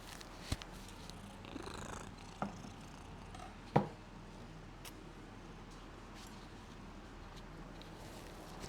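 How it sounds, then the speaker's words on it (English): A cat purrs softly and continuously as a low steady rumble, close by and faint, with a few small knocks and clicks around it and no talking. "Can you hear that purr?"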